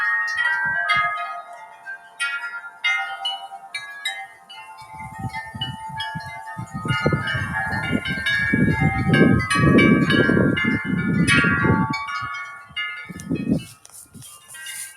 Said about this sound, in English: And there's the Gregorian chimes.